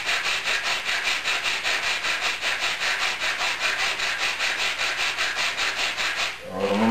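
Sandpaper scrubs the underside of a wooden wing for an EPA-class air-combat model aircraft in quick, even back-and-forth strokes, close and continuous, stopping briefly at the very end.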